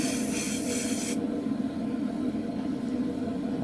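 Paint is sprayed in a thin misty coat onto the cockpit of a 1/48 scale AMK F-14D Super Tomcat model. A soft, close hiss lasts about a second, then cuts off into quiet room tone.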